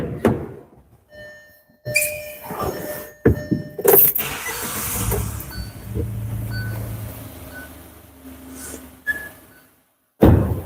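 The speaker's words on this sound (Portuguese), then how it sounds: "Vou dar partida no carro." A car engine, in a car being diagnosed for a faulty cylinder, cranks briefly and then catches and settles into a steady idle, loud and close, after a few clicks and thunks.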